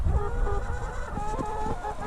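Chickens cluck nearby in a busy, overlapping chatter, with short pulsing calls.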